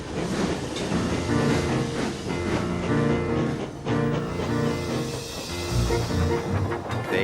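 Cartoon steam locomotive James from Thomas & Friends pulling out with a train of presents, a steady rhythmic rumble and clatter of wheels under a busy musical score, loud and continuous throughout.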